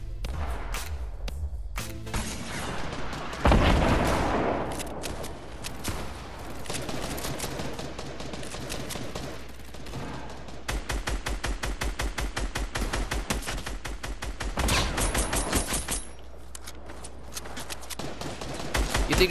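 Sustained rapid-fire gunfire in a video game, loud and continuous with dense rattling bursts and a few heavier booms, running almost without pause.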